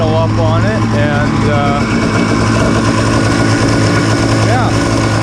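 A DASA engine fitted in a cheap jetski idles high while running on a garden hose, a steady loud droning hum with a constant low tone, and someone talks over it.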